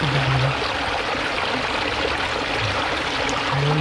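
Close, continuous rush and gurgle of stream water flowing past, a steady even wash with faint low tonal hums drifting in and out beneath it.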